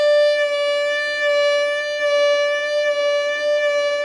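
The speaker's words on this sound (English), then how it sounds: "I will show you the vibrato which goes down in pitch and back to the normal pitch." Sustained violin note with slow vibrato that dips below pitch and returns, a rich steady bowed tone held alone for about four seconds.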